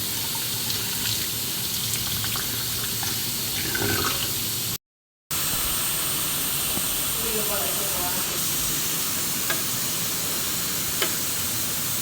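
Tap water runs over a young coconut, washed for a Filipino buko salad. A steady, hissing stream continues with faint handling clatter and a brief dropout partway through.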